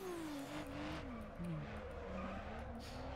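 A car drifting in the Need for Speed: Underground racing game, its engine droning steadily with a sustained tire squeal sliding in pitch, continuous and fairly loud, with no speech.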